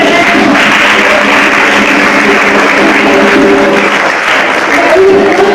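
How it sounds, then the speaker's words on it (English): Sustained audience applause at a Black History Month 2016 event, dense steady clapping from a large crowd filling the room at high volume throughout. "Let's give it a round of applause."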